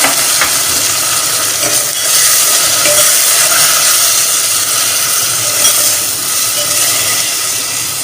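Fried onions in a pan with garlic paste added, a loud, dense sizzle and steamy hiss that goes on steadily throughout, with faint stirring scrapes and no talking.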